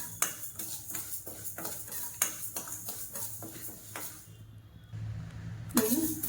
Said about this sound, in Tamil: இதை வந்து லைட்டாக கலர் செய்கிற வரைக்கும் வறுத்து எடுத்துக்கலாம்